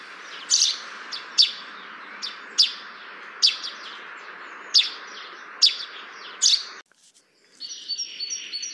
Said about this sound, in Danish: Her kan I høre skovspurvens sang.